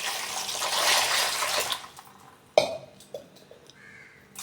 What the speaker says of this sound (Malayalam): അത് വേകാനുള്ള ആവശ്യത്തിനുള്ള വെള്ളം ഒഴിക്കുകയാണ്